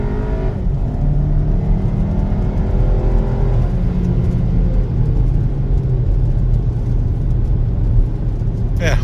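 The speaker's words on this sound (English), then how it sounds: "a lot of cabin noise, road noise" Cabin and road noise inside an accelerating Audi Q3 compact SUV under full throttle, a loud, continuous low engine and tyre rumble that climbs and settles, with a voice speaking briefly over it.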